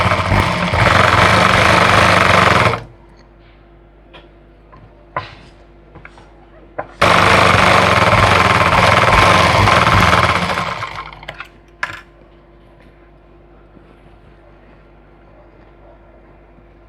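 An electric sewing machine stitches salwar pieces in two loud, steady runs of a few seconds each, broken by quiet stretches with faint handling clicks and a low hum.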